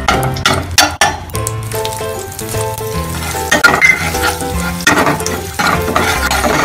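Wheat frying in ghee for carrot halwa, stirred briskly: a loud, close sizzle under repeated scraping and knocking of a spoon against the pan, with no one talking.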